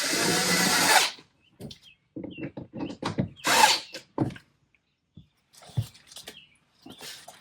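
A power drill tightens front bumper bolts on a 2017-onward Porsche Panamera 971, heard as several short close bursts of whirring separated by pauses, with small clicks and handling noises between runs.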